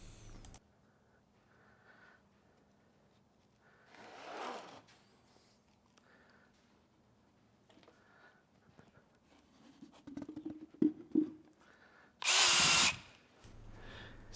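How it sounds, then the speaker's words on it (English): A power drill pre-drills screw holes in wood for a storage box build in a home workshop, sounding as short bursts spread across a mostly quiet stretch, with the loudest burst near the end. "I'm just going to pre-drill the holes and then use some screws."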